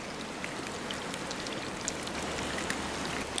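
Water poured into a camp oven stew outdoors, a faint, steady splashing trickle with scattered small drips throughout.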